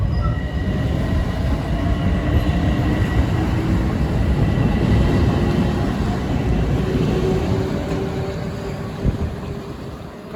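A Metro-North Croton-Harmon local train rumbles at Scarborough station beside the river, a loud steady roar of rolling wheels that slowly fades as it pulls away.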